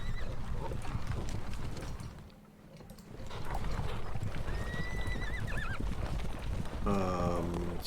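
Horses in a Thirty Years War wargame video game clip-clop in a steady stream of hooves, and one neighs with a long, loud whinny near the end, with a fainter whinny before it.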